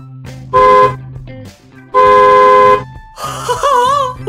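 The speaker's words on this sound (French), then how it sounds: "Oh, c'est le klaxon du bus." A bus horn honks twice in long, loud blasts, each about a second, followed by a wavering, warbling tone with no talk.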